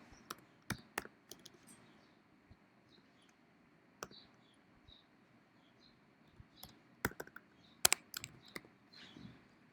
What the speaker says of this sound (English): let me type here my email address